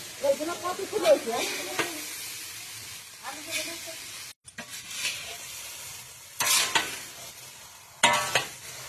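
Cabbage sautéed with spices in a pan, with bursts of stirring scrapes and clinks of a utensil against the pan over a faint sizzle, some pauses between the stirs.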